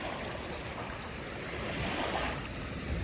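Steady wash of waves on the shore of Dolomite Beach on Manila Bay, a continuous broad rush with light wind noise and no voices.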